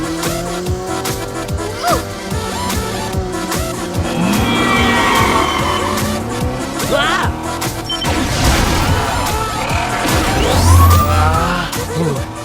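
A cartoon car speeds through a chase, engine revving with tire squeals and skids, a loud busy mix layered with music and occasional voices.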